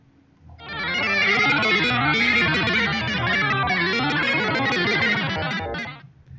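A heavily distorted, warbling electronic tone from an instrument in a video game swells in and bends up and down in pitch, harsh and loud, then cuts out abruptly.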